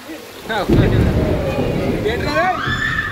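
Steady rain with a low thunder rumble, loud and close, with children's voices and chatter over the downpour.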